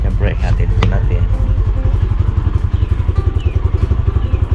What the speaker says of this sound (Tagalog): Pinapandar ko lang yung ating motor at medyo matagal na rin po siya pinapandar.